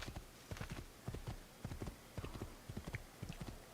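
A horse trots in Assassin's Creed 2, its hooves clip-clopping in a steady rapid rhythm on hard ground, fairly quiet and close, with no talk over it.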